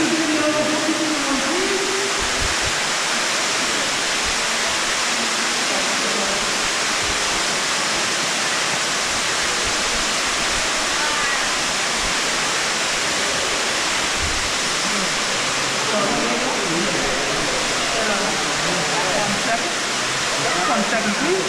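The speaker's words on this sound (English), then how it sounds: "I want a picture with a underground waterfall behind me." Underground waterfall at Ruby Falls roaring inside a cave, a dense, steady rush of falling water heard close and loud throughout.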